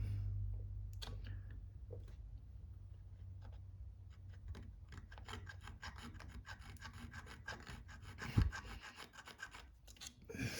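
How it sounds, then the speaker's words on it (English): A bolt scrapes a rasping, uneven rhythm against a part while a custom brake light is fitted on a Honda 400ex, faint and steady with small ticks and a louder knock near the end. "So I scraped it with the bolt real quick"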